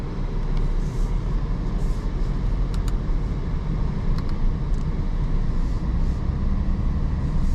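A 2024 Audi Q8 55 Premium Plus pulling away in comfort mode, heard from inside as a steady low engine and road drone with muted rumble throughout.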